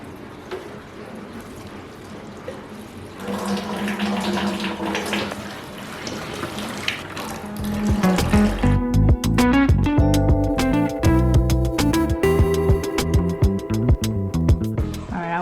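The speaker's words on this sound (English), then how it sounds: "Say almost a quarter of the water has been drained from the tank in this process." Water draining out of a fish tank during a partial water change, a steady liquid gush that grows louder and more turbulent partway through, with sloshing and gurgling, and no talk over it.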